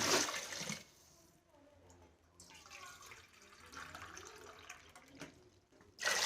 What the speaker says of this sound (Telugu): three cups of water add చేసుకోవాలి దీంట్లో